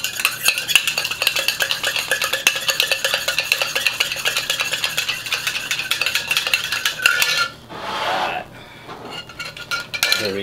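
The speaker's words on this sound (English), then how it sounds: "So for this one, I'm not going to shake up. I'm just going to stir it." A bar spoon stirs a Black Mamba cocktail in a glass, making rapid, steady metallic clinking and rattling that carries on loudly, breaks off briefly near the end, then starts again.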